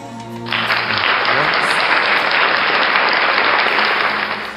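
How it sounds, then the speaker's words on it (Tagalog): Applause from a live audience at an informal singing session, a dense steady wash of many hands clapping that swells in after a brief moment and holds loud and continuous throughout. "Isang palakpak naman dyan"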